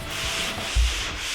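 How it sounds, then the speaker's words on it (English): Finished drywall lightly sanded with a pole sanding tool, a continuous abrasive rubbing with a soft bump mid-stroke, close and steady with no talk. "We're gonna sand it down a little bit."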